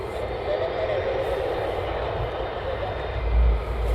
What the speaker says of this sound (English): You've got a KC-135 coming in now.